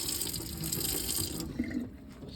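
A Delta Essa kitchen faucet in a converted school bus runs a steady, close hissing stream of water into the sink, then the flow softens and changes character for the last second or so.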